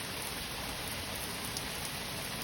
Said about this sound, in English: it's going to rain all through August.